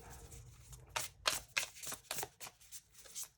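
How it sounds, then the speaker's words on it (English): A deck of tarot cards riffled and shuffled in a series of quick crisp bursts, close up, with no talking. "One more shuffle here."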